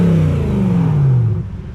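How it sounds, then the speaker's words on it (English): A BMW E92 M3 sweeps past with a loud, close exhaust note whose pitch falls steadily as the car goes by, then fades over the last half second. "that beautiful E92 M3 that we just heard pass by"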